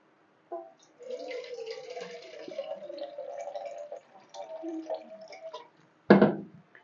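Water is poured from a 1.5-glass cup into a cooking pot while beef karela curry is being made, giving a soft, uneven trickle and splash close by. A sharp clatter of the cup or pot follows near the end.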